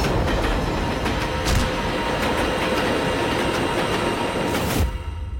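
Inside a moving train carriage, wheels rumble steadily on the rails with faint rhythmic clacks, a loud continuous roar that fades slightly at the end.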